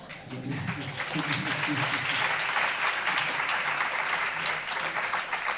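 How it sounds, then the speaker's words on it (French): Concert audience of a few hundred at a live jazz trio festival performance, breaking into sustained, full applause that stays dense and even for several seconds, with some crowd voices mixed in. "accueille les applaudissements"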